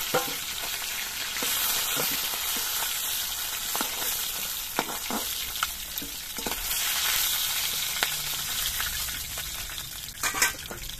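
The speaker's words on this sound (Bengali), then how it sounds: "বাকি মাছগুলো ভেজে নিচ্ছি।" Pieces of fresh Ganges aar fish sizzle in a pan, a continuous close hiss broken by scattered small pops and sputters, with a louder crackle burst toward the end.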